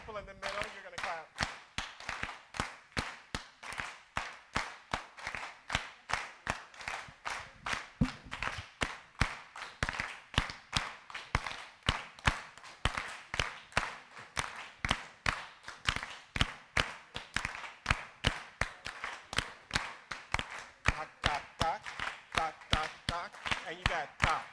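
Audience hands clapping together in a steady rhythm, a long run of crisp, evenly spaced claps filling a room at a live performance, continuing without talk.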